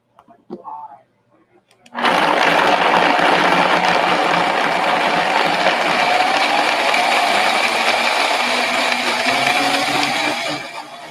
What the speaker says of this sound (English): I'm going to put these on top of my blender here. Put my lid on and give it a whirl.